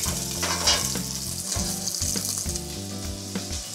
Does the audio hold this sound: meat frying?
yes